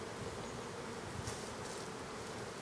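Honey bees swarm around a hive board, making a steady, faint, unbroken buzz that holds evenly throughout with no voices.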